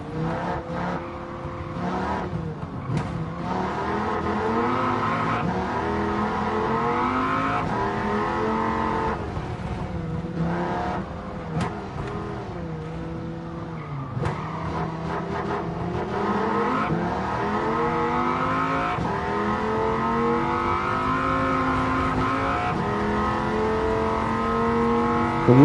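A rear-drive racing car in the Gran Turismo 7 video game, its engine revving loudly and continuously for the whole stretch, the pitch climbing and dropping with each gear change and corner, with no talk.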